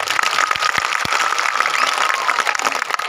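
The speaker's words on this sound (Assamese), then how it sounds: "আপোনালোকৰ পৰা এটি দীঘলীয়া হাত চাপৰি বিচাৰিছোঁ।" An audience at a stage event claps in a sustained, dense burst of applause, many hands at once filling the hall evenly for the whole stretch.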